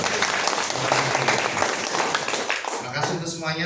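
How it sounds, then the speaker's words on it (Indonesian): A congregation at a Catholic recollection mass applauds in a dense, steady burst while someone speaks over the clapping near the end. "Tepuk tangan untuk kita semua."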